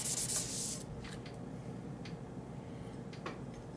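A Cold Steel Large Lawman knife blade is rubbed flat on abrasive, giving a brief burst of close, hissing scraping at the start, then quieter, intermittent rubbing strokes over a faint background.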